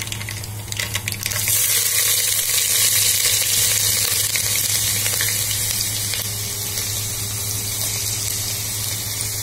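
Chopped ginger hits hot oil after mustard seeds have popped, and a loud, dense hiss of frying starts about a second in and holds steadily to the end, close and continuous.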